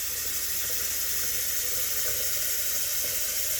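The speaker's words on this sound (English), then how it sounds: "we need to fill this up with water" Tap water runs steadily into the reservoir of a Keurig coffee maker during cleaning and descaling, a continuous hissing splash at moderate level with no talking.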